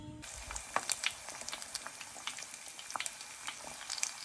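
Pork chops sizzle in hot oil in a pan, a steady close crackle with scattered sharp spits and pops running throughout.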